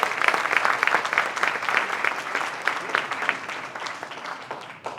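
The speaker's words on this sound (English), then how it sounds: "So again, big round of applause for the American Cancer Society." An audience at a fundraising event for a cancer charity claps in sustained applause that is loud at first and gradually fades, with some voices mixed in.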